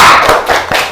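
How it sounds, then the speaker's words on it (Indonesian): Classroom of students clapping together in a short rhythmic cheer on the teacher's cue during an Islamic religious education lesson, a few sharp claps close by in one quick second. "Oke, tepuk semangat."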